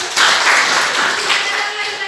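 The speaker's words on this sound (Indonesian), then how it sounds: "tepuk tangan untuk Kakak Fiona" A classroom group gives a short round of applause for a student named Fiona, a brief burst of brisk, close hand claps that rises quickly and fades over about two seconds.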